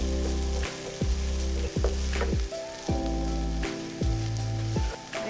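Mustard seeds and curry leaves frying in hot oil give a steady, close sizzle and crackle with occasional stirring scrapes, all set under sustained musical tones.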